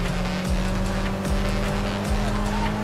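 A BMW M car racing in Need for Speed Heat, its engine roaring steadily and loud alongside other cars, with repeated short tire squeals and engine swells through the run.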